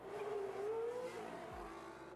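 An F1 car in the F1 Manager 2022 racing game leaves the pit lane with a steady engine drone and a gliding pitch that rises and then eases off, plus a brief low thump near the end, continuous and fairly close with no talk.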